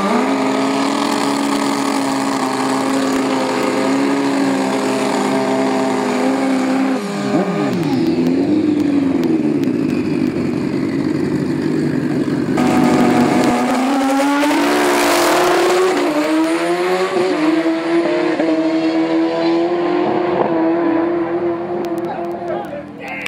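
An Orient Express Pro Street drag racing motorcycle at AMA Dragbike Montgomery 2010 revs hard, launches and screams down the strip through rising gear pulls, with tire squeal, loud and close, then fades off at the end.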